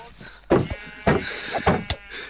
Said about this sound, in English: I can't keep hitting the sheep.